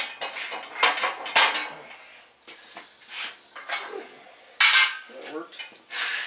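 Metal bar dropped and handled during front universal and ball joint work on a 1991 GMC Jimmy: a run of sharp metallic clanks and rattles at irregular intervals, close by, with some faint talk.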